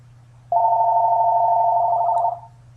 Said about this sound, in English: We got a phone ringing.